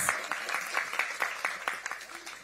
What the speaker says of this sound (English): Let's give another round of applause for our moderator and our panelists.